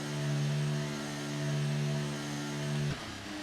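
Race car engine in a racing video game held at steady high revs on the start grid, a buzzy harmonic drone with slight rhythmic surges that drops away abruptly near the end.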